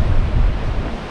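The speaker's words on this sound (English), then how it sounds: "the sea bashing waves against the rocks" Sea waves bash against the rocks at Storms River Mouth in Tsitsikamma National Park on the Garden Route, a steady, loud low roar of surf with wind noise and no voices.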